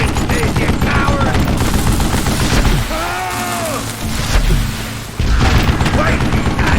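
Loud, dense gunfire from the Western shooter game Call of Juarez: Gunslinger, with rapid repeated shots and booms that pause briefly and then resume, with game voices heard amid the noise.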